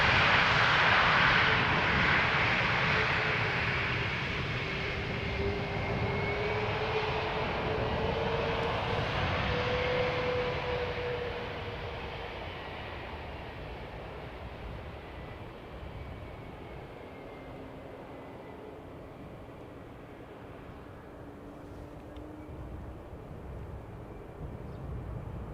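A Transavia Airbus A321neo jet at Amsterdam Schiphol roars loudly at first, then its engine noise slowly fades into a steady, more distant rumble with a faint drifting whine.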